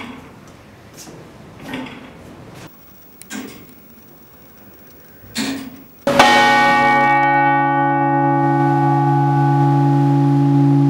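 Church bells of St Ann's Shandon tower ring out loud and sustained, a strong bell strike near six seconds leaving long humming tones, preceded by a few softer scattered knocks and clanks.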